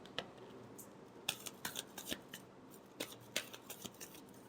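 Tarot cards being shuffled by hand at close range, a series of crisp papery riffles and slaps in uneven bursts with quiet pauses between, no voices.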